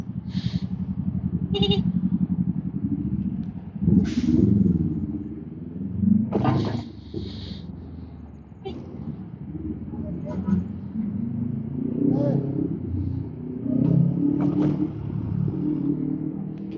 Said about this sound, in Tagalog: Oh, big bike yun. Nagre-revolution eh.